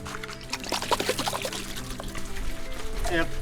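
Water is poured over a straw mushroom bed in a cement pond, a soft steady splashing and trickling with someone talking over it.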